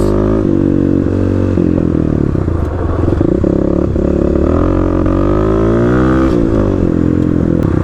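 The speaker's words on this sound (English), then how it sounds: "let's go ahead, get on the bike, and see how my first attempts go at drifting the KLX" A Kawasaki KLX351 dirt bike drifting through a corner on loose dirt, its single-cylinder engine loud and close as it revs and bogs, with tire scrabble and clatter over the ground throughout.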